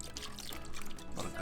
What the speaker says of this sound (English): Now we'll come behind that with our pineapple juice